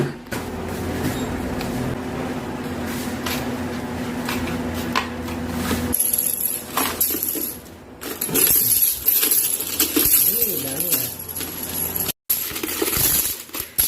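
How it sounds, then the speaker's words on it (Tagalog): Coins from a child's piggy bank being counted, with repeated metallic clinks and jingles of loose change close by, and a busier rattle of coins in the second half. "So samahan niyo kaming bilangin ang kanyang mga barya."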